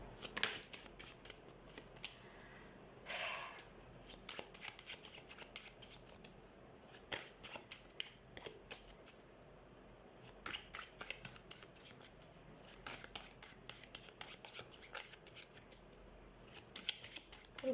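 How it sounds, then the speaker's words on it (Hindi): A deck of tarot cards is shuffled by hand in repeated soft riffling and flicking bursts, quiet and close, with brief pauses between rounds. "तो सबसे पहले हम कार्ड शफल कर लेते हैं"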